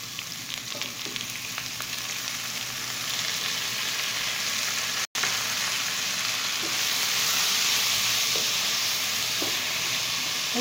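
Onions frying in a pan, a steady broadband hiss and sizzle that holds throughout, cut by one brief dropout midway and slightly louder afterwards, with no talking.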